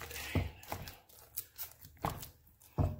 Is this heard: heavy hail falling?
no